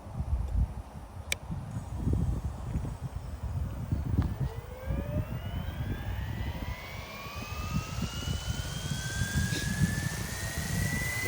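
Roban MD-500 RC helicopter fitted with a four-blade rotor spooling up outdoors, a rising whine climbing steadily in pitch over a rumbling wind-buffeted background, moderately close and without talk.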